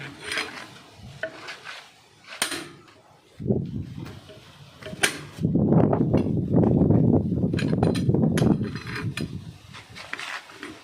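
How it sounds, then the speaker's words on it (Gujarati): A jack raised under a mini tractor after its wheel studs are loosened, with ratcheting metallic clanks and mechanical grinding that grow louder and steadier midway, close by. "આ બધા સ્ટડ ઢીલા થઈ જાય પછી આપણે જેક મારીએ."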